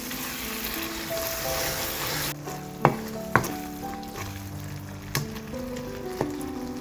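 Masala stirs and fries in hot oil with asafoetida, a constant close sizzle cut by several sharp spoon knocks against the pan, with a faint tonal hum beneath and no talking.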